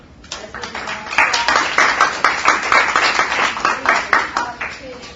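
An audience at a children's college event gives a round of applause, dense clapping that swells quickly and holds steady for several seconds before tapering off.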